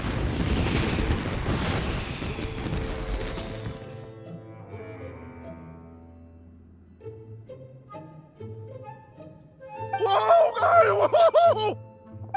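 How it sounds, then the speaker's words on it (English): Fireworks burst in the video game Genshin Impact: a heavy rumbling boom opens, then fades into ringing tones, and a bright crackling flurry flares up near the end. "It sounded like fireworks."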